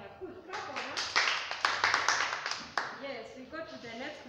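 A group of children in a church Bible class claps together, a burst of quick, uneven, fairly loud hand claps lasting a few seconds, with voices talking over and after it.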